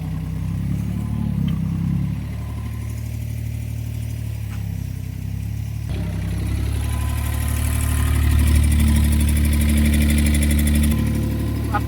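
A surplus Japanese backhoe's diesel engine runs steadily at idle, a continuous low rumble that swells a little louder toward the end with faint background noise.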